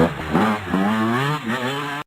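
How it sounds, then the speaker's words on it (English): A motorcycle engine revs up and down in a strong, continuous burst, loud and close, with no talk over it. "Motorcycles that go."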